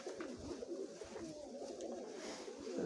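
A pigeon coos softly in a rural dovecote in the village of Chornobaivka, Mykolaiv region, a low murmuring call repeating steadily over faint background noise with no talk.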